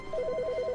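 A telephone rings in the video game The Stanley Parable, a rapid warbling electronic trill of alternating tones, loud and close, with no talk over it.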